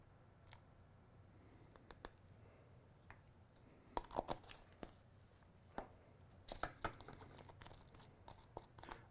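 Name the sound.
stirring powders with zinc oxide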